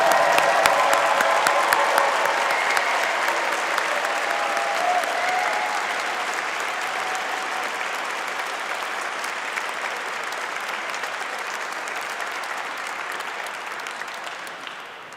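A large commencement crowd applauds graduating 2020 undergraduates, sustained dense clapping with a few faint cheers that holds steady for about fifteen seconds before easing at the end.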